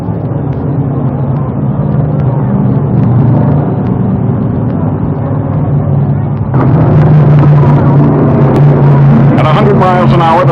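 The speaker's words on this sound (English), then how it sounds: "Behind the official car, the field accelerates, moving evenly and certainly toward the destiny beyond the starter's flag" Stock cars in the 1967 World 600 rumble behind the pace car as the field accelerates, a heavy layered engine drone that swells louder partway through, with narration running over it.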